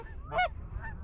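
A single goose honk at a distance during a winter goose hunt in Wisconsin, one brief nasal call over quiet outdoor background.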